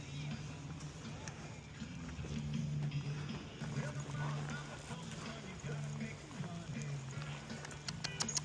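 A horse's hooves clop and shuffle faintly while a rider mounts during cattle roping, with a steady low hum running underneath throughout.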